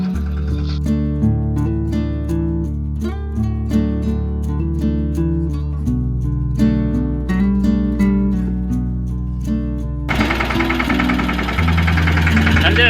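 A tractor engine chugs steadily during groundnut sowing in a field, a low, throbbing rumble close by, ending in a burst of broadband noise as it revs.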